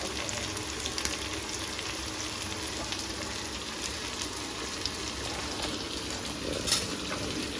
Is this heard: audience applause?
no